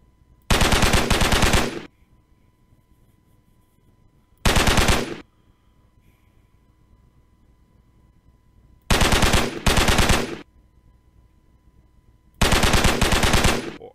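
Rapid automatic gunfire from a zombie shooter video game, heard in four separate bursts of one to two seconds with quiet pauses between them, loud and close with no talking.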